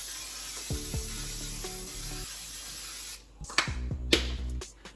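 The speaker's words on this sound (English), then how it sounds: "This is just some coconut oil non-stick cooking spray." Short hissing bursts of a coconut oil non-stick cooking spray can, two or three quick sprays in close succession, with faint clicks and handling noise around them.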